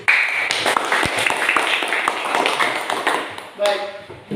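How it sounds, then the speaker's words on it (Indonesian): Classroom applause for a student discussion group, a scattered burst of hand claps and taps across the room with students' voices underneath. "Tepuk tangan buat kelompok 1 dulu."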